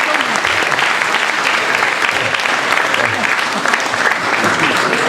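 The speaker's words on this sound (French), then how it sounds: "Alors, vous l'applaudissez." Sustained loud applause from a conference audience for a speaker presenting his book, steady dense clapping throughout with faint voices mixed in.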